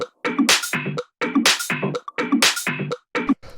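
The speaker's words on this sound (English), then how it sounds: "the last thing we have here is the percussion" Layered tech house percussion loop in a Toolroom style, with punchy, busy hits in a tight pattern that repeats about three times in quick succession, upfront and dry with no talking.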